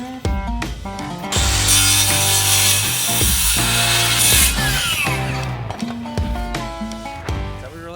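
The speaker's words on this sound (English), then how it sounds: "Now we'll cut it, we'll put that little bit of back bevel on it" A wooden deck seat board is cut with a slight back bevel, the saw whining up loudly for a few seconds of steady cutting before spinning down, with music playing underneath.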